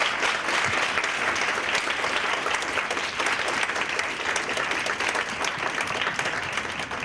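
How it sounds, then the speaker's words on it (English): A luncheon audience honoring early childhood educators of the year breaks into sustained applause, a dense, steady wash of many hands clapping close by for several seconds without any talking. "Can everybody one last time join me in saying congratulations and giving them a round of applause?"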